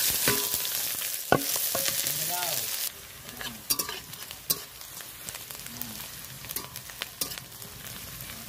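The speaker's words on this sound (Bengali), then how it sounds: "একটু লাল করে ভেজে নেব।" Onion, garlic and green chilli frying in hot oil in a kadai, a bright sizzle punctuated by sharp scrapes and clicks of stirring, loudest at first and then settling into a quieter crackle.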